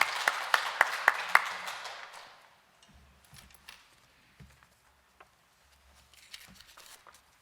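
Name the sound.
congregation applause welcoming the pastor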